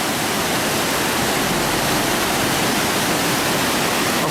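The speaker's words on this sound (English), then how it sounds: "Falls of Dochart." The Falls of Dochart on the River Dochart pour in a loud, steady, unbroken roar of rushing water, heard up close and alone.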